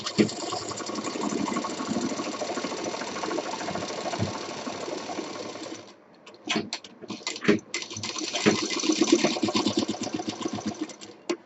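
A sewing machine stitches the side seam of a simple cloth bag, running steadily for about six seconds, pausing, then resuming in short stop-start bursts with clicks between runs; close and fairly loud, with no talking.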